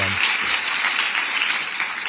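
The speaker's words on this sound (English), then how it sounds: "Applaud that" An audience at a live show claps in steady, dense applause throughout, moderately loud and filling the space without a break.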